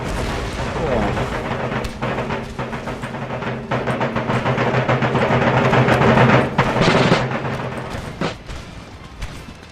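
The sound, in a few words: musket volleys firing by rank in Empire Total War video game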